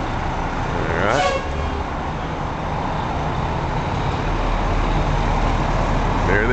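A Portland fire engine pulls away on a sunny street, its deep engine rumble steady throughout while a short horn toot sounds near the start, close and fairly loud.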